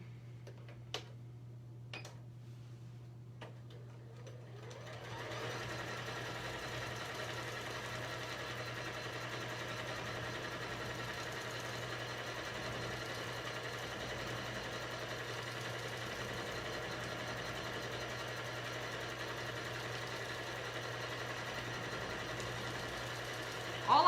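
A quilting machine stitches swirls on a practice piece, starting after a few faint clicks and then running as a steady, even mechanical hum with fine rapid ticking, close and continuous with no talking.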